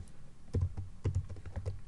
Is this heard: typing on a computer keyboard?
yes